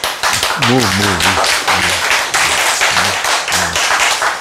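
Hand clapping in a Korean lecture, a few sharp claps ringing out over and between a man's speech, irregularly spaced.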